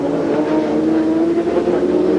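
Racing motorcycle at speed during an AMA Formula Xtreme race at Laguna Seca, a steady loud engine drone holding a high pitch throughout without a break, no talk over it.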